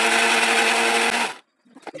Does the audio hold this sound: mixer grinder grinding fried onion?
yes